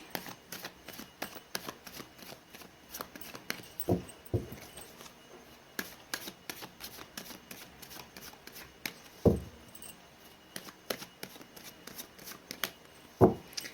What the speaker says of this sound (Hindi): मैंने कर लिए कार्ड्स की सफलिंग